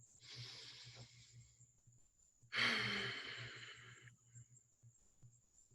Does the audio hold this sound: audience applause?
no